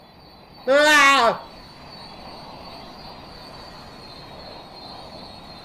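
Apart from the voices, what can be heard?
Long Island Railroad train passing underground, wheels squealing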